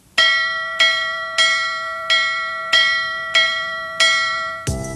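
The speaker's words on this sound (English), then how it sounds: "I hear a bell ding-dinging." A bell in the JumpStart Kindergarten video game rings seven times in steady succession, each bright, clear strike ringing out and decaying before the next, with a final shorter clang at the end.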